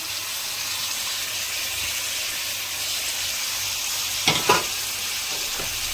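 Cucumber pieces tossed into onions frying in oil for a cucumber chicken curry, a constant hiss of frying with a couple of sharp stirring scrapes near the end, close and without speech.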